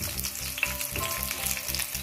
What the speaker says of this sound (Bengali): এবার এই রসুনগুলো দিয়ে দেবো।